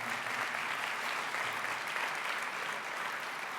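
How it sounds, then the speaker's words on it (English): Audience applause for Dr. Viad fills a conference room, dense steady clapping from a large crowd running unbroken for several seconds at even loudness. "can we just give Dr. Viad another round of applause?"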